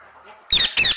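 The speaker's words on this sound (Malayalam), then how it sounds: "തത്തയുടെ സൗണ്ട് ആണിത് നിങ്ങൾ കേൾക്കുന്നത്" A parrot gives two quick, harsh, high-pitched squawks in succession, fairly close and clear, after a near-silent moment.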